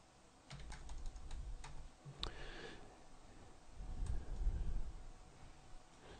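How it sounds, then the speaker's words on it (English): Keys clacking on a computer keyboard during architectural modeling software work, a few quick bursts of close, fairly soft typing with brief pauses between them. "I can type in a distance if I like."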